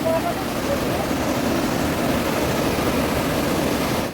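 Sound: rushing water of a waterfall near Netarhat, Jharkhand

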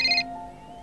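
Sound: phone ringtone ringing

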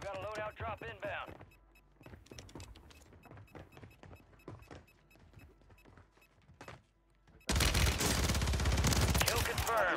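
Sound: gunfire in video game Warzone

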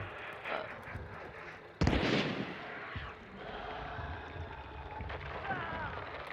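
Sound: gunshots in the video game Hunt: Showdown

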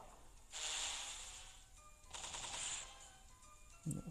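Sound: DroneBeat firing bullets in the video game GunboundM

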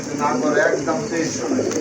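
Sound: pigeons cooing

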